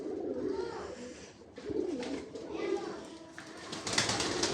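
Pigeons coo at a pigeon farm in soft, rolling calls that repeat over a steady, noisy background. A voice talks faintly at times.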